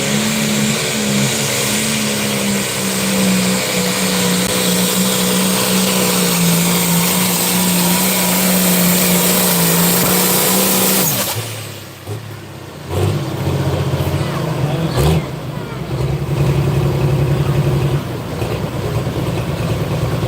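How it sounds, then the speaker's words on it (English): A pulling tractor running at a Cumberland tractor pull in the 9500 Open and 11,500 Pro Farm classes: a loud, steady droning engine that cuts off abruptly, then fires up again with rougher revving. "I'm not familiar with this tractor, but it is a nice running machine there"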